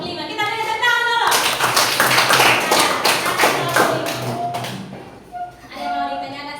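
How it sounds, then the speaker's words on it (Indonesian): A classroom group claps for group 5 during a school coaching session, a burst of several seconds of fairly close, uneven clapping, with a voice talking before and after it. "Kita beri tepuk tangan dulu."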